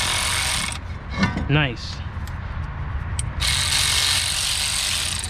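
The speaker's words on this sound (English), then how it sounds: "as you tighten this down, this will push against the hub and pull the rotor out with it" A puller tightened on a 2003 Infiniti G35 to draw the front brake rotor off the hub, a run of quick ratcheting clicks and metallic scraping between stretches of steady background noise, with a short spoken remark.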